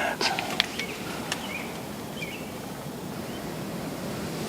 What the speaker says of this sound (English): See how wind's coming up again.